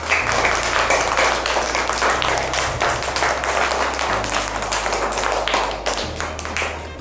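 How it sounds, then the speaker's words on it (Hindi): Schoolchildren in a KG2 class clap together in a school activity session, a steady, continuous burst of close applause lasting several seconds with a low hum underneath. "भाई इनके लिए तो बहुत जोरदार तालियां।"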